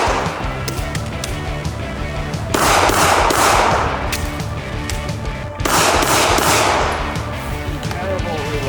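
Rapid gunfire from a pistol caliber carbine (MPX) and a Glock 47 pistol drawn from concealment in a shooting competition, with loud shots fired in quick clusters and a denser, heavier volley in two stretches.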